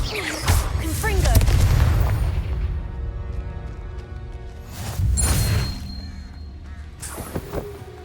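A Confringo blasting spell explodes in Hogwarts Legacy as a loud, booming burst with a rushing tail, followed a few seconds later by a second, smaller blast amid game effects and chatter.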